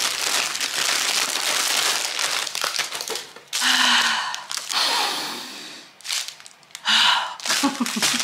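A plastic bag of diamond art drills being opened crinkles and rustles loudly up close, in several bursts of crackling plastic with brief pauses and light breathing between.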